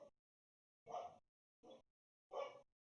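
Several short dog barks or yips in quick succession, quiet and somewhat distant, with brief silences between them.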